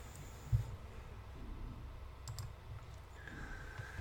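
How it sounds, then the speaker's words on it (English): Typing on a computer keyboard during a live stream, heard as scattered soft clicks under a steady low background hum, with one sharper tap near the start. "please stop typing because you're interfering with the video stream"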